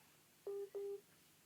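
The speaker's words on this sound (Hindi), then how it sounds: "एक मिनट किसी का फोन डिस्टर्ब हो गया।" A mobile phone gives two short, clear electronic beeps in quick succession during a church sermon, faint against a quiet room.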